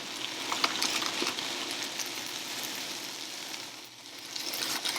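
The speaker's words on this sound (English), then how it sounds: "So mix it in here. Do a good saute." Mixed vegetables sautéing in a pan, with a soft, steady sizzle and light stirring scrapes throughout, briefly dipping near the end before picking up again.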